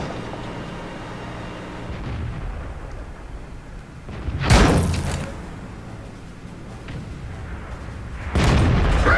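Tank cannon firing in World of Tanks, with a low rumbling engine bed broken by two heavy booming shots, the first loud and near with a lingering tail, the second following several seconds later.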